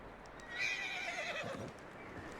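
A horse whinnies in the Red Dead Redemption 2 video game, a long neigh rising and then falling against a steady game background, with faint hoofbeats after it.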